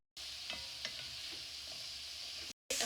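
Chopped onion and garlic fry in hot oil in a pan, a dense, even sizzle with a few stirring clicks that cuts off abruptly near the end before a brief burst resumes.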